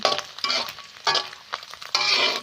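Pork and pork fat fry in a pan, heard as bursts of bright sizzling and stirring scrapes in an uneven rhythm, loud and close, with short quieter gaps between.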